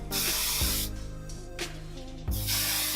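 Hairspray from an aerosol can misted onto curled hair in three loud hissing bursts, close up, with a short pause between each.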